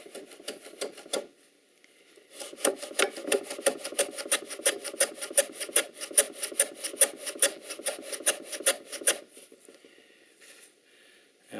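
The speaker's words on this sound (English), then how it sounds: "Use the shooting board, and I'm going to avoid cutting this bevel back any further, and I'm just going to cut some off the end." Hand plane taking repeated rasping strokes across pine end grain on a shooting board while making a pine candle box, a steady close rhythm of about twenty passes with a brief pause near the start.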